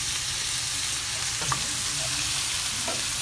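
Shrimp fry in a pot with a steady, loud hiss of sizzling oil and faint stirring clinks, close up and without talk.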